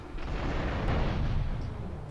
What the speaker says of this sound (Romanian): Deci a plantat bomba acolo.